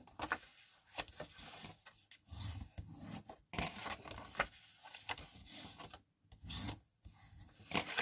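Paper being creased along fold lines for a handmade scrapbook envelope, heard as repeated soft rubbing and rasping strokes, close and fairly quiet, with short pauses between passes.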